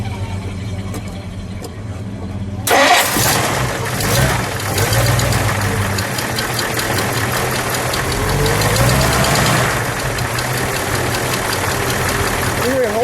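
A 1956 Plymouth Fury two-door hardtop engine fires up after a few seconds of quiet and settles into a steady, loud, rumbling idle with a slight knock, heard close up at an outdoor car show, with voices faint underneath.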